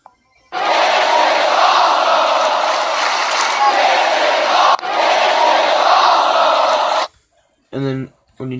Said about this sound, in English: I'm going to do the crowd cheer this time